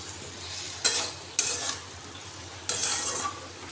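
Potato, soybean and pointed gourd curry sautéing in a pan, with a steady sizzle broken by three distinct spatula strokes scraping and stirring through the vegetables, no talk.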